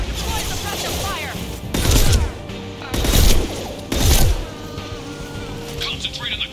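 Bursts of gunfire in Mass Effect 2 come in three loud, heavy volleys about a second apart, with lighter crackling shots and battle noise in between while a voice speaks over the combat.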